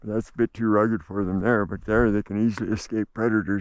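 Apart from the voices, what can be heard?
No everyday noise stands out behind the speech.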